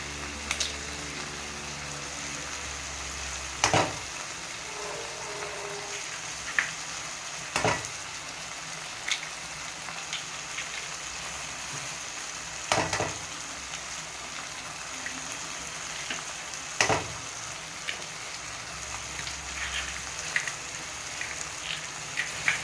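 Eggs broken over six parottas frying on a hot pan for cluster parotta, with a steady sizzle and periodic sharp scraping strikes of a spatula stirring the mix, fairly close and with no talk.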